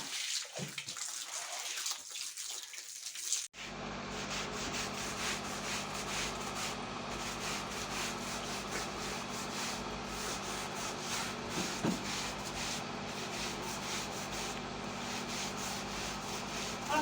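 Carpets are scrubbed by hand during a long day of rug washing, giving a steady, wet, rasping rub with sloshing water that runs continuously and close up after a brief quieter start.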